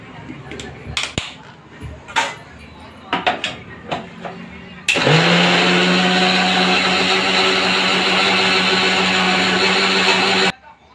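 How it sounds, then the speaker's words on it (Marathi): A mixer grinder blending tomatoes into masala starts with a loud whine and runs steadily for about six seconds before stopping. Clinks and handling knocks come before it starts. "हे टमाटर मी याच्यामध्ये टाकून घेतलेलं आहे व त्याला मिक्सरमधून एक गरका देऊन घ्यायचा आहे"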